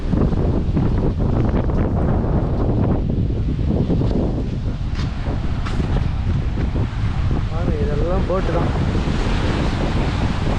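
Sea waves wash onto a rocky shore at Kovalam beach in Kanyakumari, heard as constant loud surf mixed with strong wind buffeting the microphone, with a brief whistling sound near the end.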